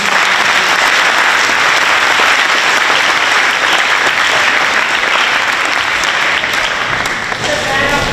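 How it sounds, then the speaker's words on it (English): Loud sustained applause from a school assembly crowd honouring Martin Luther King Jr., a dense continuous clatter of many hands filling the room, tapering only slightly near the end. "Let's give everyone another round of applause for their individual."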